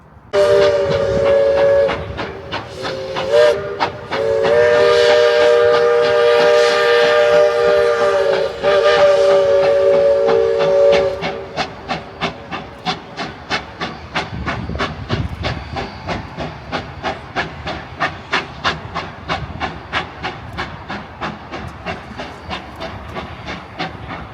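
A Georgetown Loop steam locomotive working hard, a long steady whistle blast with heavy hissing steam for about ten seconds, then rapid loud chuffing exhaust beats that pound on in a fast rhythm.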